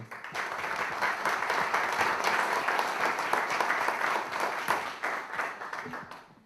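Audience in a packed hall at a book presentation breaks into sustained, dense applause that swells and holds steady for several seconds before tapering off, with no talking.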